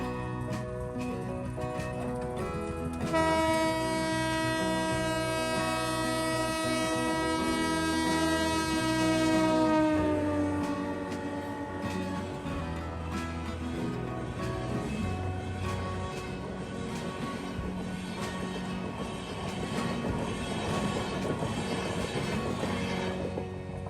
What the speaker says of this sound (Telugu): ట్రైన్ అయితే జమ్మని వెళ్ళింది చాలా బాగుంది కదా